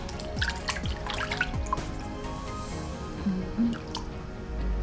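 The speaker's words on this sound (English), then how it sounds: "I'm just washing my face lightly." Light face washing with water at a sink, soft drips and small splashes with gentle wet squishing, quiet and close, with no talking.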